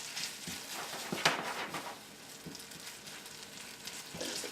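Onions with cumin and chili powder sizzle in a pan while softening for black bean burger patties, a steady close frying hiss with a few faint stirring clatters and no voices.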